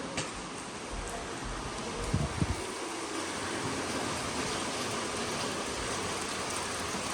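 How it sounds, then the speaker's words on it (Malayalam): Constant broadband rain hiss fills the whole stretch, heavy and even, with a couple of brief knocks early on and no talking. "രാവിലെ മുതൽ നല്ല മഴയാ"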